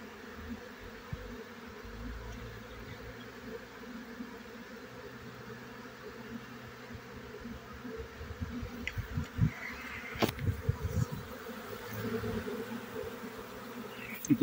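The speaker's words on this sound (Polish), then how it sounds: "tu jest mnóstwo pszczół" A swarm of honey bees drones continuously at a hive, a soft, steady buzzing that grows busier and slightly louder toward the end.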